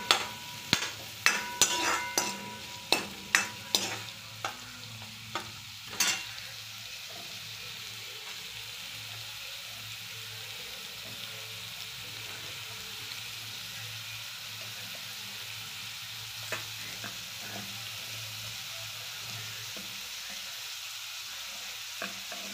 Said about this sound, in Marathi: ते कांदा चांगला परतून घ्यायचा आहे।